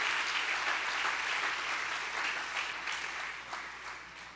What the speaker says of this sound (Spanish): Dale un buen aplauso de alabanza al Señor